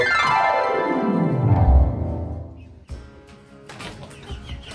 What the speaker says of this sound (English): He is a silky rooster.